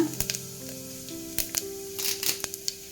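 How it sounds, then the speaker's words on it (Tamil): Cumin seeds sizzle in hot oil for a Tamil brinjal kadayal, with a steady close crackle broken by several sharp pops and spits, and no talking. "இப்போ சீரகம் போட்டுக்கலாங்க"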